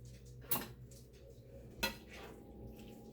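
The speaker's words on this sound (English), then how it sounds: "Give this a quick stir." Two quick scraping clinks of a utensil against a pot while dinner is stirred, close but soft over a quiet kitchen background, with no talking.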